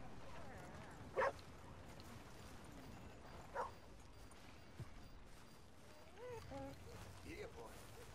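A dog in the Western video game Red Dead Redemption 2 gives two short, faint barks a couple of seconds apart, over quiet outdoor town ambience with soft footsteps.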